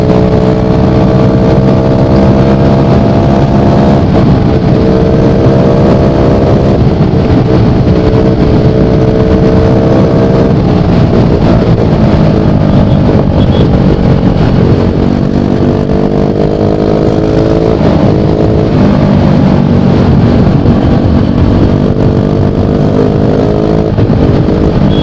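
A scooter engine drones loudly and continuously while riding, its pitch climbing and dipping in repeated waves of acceleration and easing off, close and steady throughout.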